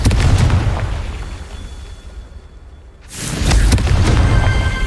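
A Confringo fire spell cast in Hogwarts Legacy, heard as a loud blasting roar that fades, then a second burst about three seconds later hitting hard and lingering, with no voices.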